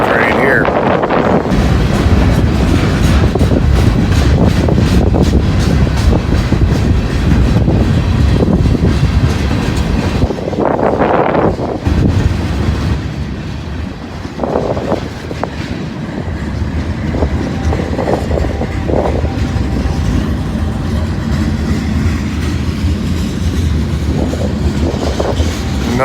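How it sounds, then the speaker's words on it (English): A long freight train of tank cars and box cars rolling past close by, a loud continuous rumble with rhythmic clatter of wheels, wind buffeting the microphone and brief voices. "And we got a monster train here."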